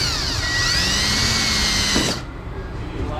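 A power drill spins a bit into metal held by a clamp, a steady high whine with rising and falling pitch for about two seconds before it stops abruptly, leaving quieter background noise.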